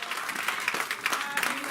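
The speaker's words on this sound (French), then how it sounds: "donnons une acclamation au Seigneur." A church congregation claps in steady, dense applause throughout, mixed with murmuring voices and a faint spoken voice underneath.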